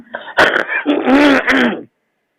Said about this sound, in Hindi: अच्छा खांसी हो रही है आपको क्या?